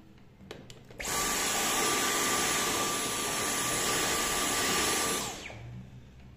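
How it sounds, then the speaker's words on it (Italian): A vacuum cleaner switches on with a loud, steady whine, runs evenly for several seconds, then powers down. "Con l'aspirapolvere non sono riuscita a togliere un bel niente."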